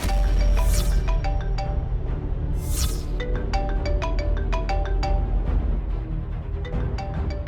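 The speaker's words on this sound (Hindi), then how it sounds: "फोन की आवाज यही कहीं से आ रही है।" A melodic electronic phone ringtone plays repeatedly in short tonal phrases, steady and fairly loud, with soft rustling and brief hissy bursts in the background.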